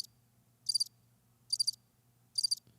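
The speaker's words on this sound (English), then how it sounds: "I hear crickets" Crickets chirp in three evenly spaced short trilled bursts, each a cluster of rapid pulses, fairly close and clear over a faint low hum.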